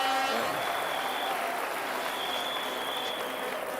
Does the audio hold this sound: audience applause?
yes